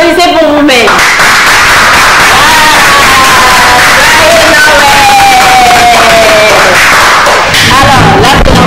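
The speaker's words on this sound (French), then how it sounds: "Allez, applaudissez pour vous-même." A lively audience at a Christmas TV show claps and cheers loudly in a full hall, with a constant roar of applause, shouts and crowd noise throughout and some voices rising through it.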